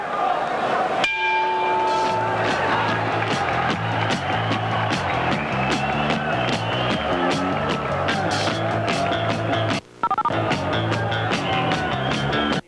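At a 1981 boxing match, a ringing bell sounds at the end of the fourth round over loud arena noise and a busy crowd, with repeated metallic strikes and a brief dropout.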